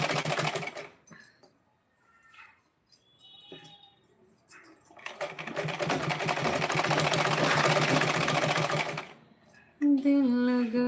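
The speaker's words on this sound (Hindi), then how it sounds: "अब अपना कपड़ा सिलेंगे।" Sewing machine stitching cloth, a few short bursts and then a long steady loud run of rapid stitching for about four seconds, with a brief tonal sound at the end.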